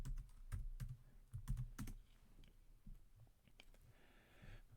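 A password is typed on a computer keyboard in quick bursts of close, crisp key clicks with short pauses between them in a quiet room.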